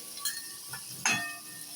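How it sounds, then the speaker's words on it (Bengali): Green chilies frying in oil rendered from hilsa fish, a soft, low sizzle broken by a few light metallic clinks of a utensil against the pan, fairly quiet and close. "আমার লঙ্কাটা ভাজা ভাজা হয়ে গেছে"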